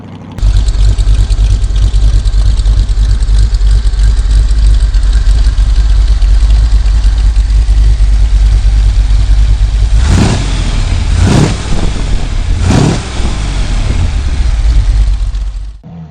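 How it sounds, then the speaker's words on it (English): A 1949 Ford Flathead 239 cubic inch V8 engine rumbles steadily and loudly, then three quick throttle blips rev it up near the end. "The 239 cubic inch 1949 edition was arguably the apex of the Ford Flathead developmental curve"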